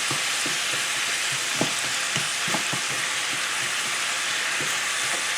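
Cinnamon apples in butter cook down in a pan, giving a steady, loud, close frying hiss with soft intermittent taps and scrapes of stirring underneath, no voices.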